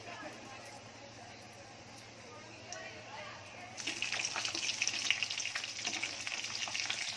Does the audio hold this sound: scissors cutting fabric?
no